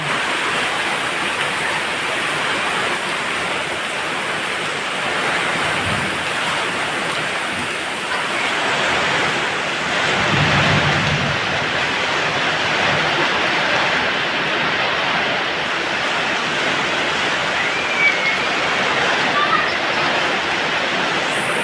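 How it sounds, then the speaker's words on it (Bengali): Heavy rain pours onto the roof of a village house in Bhola during a Kalbaishakhi storm, a dense continuous roar of water that holds steady throughout with slight swells. "দেখেন ছাদে বৃষ্টি পড়তেছে"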